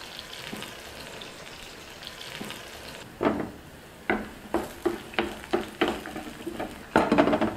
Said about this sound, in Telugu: వీటిని ఒక కాసేపు బాగా వేగనిద్దాం.